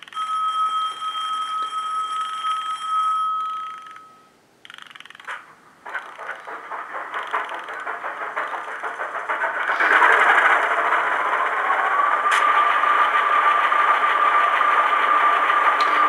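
A model Class 27 diesel locomotive's sound unit starts up: a steady mechanical engine drone with a high whine, briefly dipping near the start before settling into a continuous running hum, close and fairly loud.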